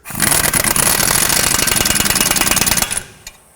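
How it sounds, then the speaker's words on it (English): A socket drives the camber adjustment bolt nut on a 2005-2010 Pontiac G6 with a loud, close burst of rapid rattling impacts lasting about three seconds, then stops abruptly with one faint knock afterward. "I'm going to torque this to 100 foot-pounds as per the paper that is provided with it"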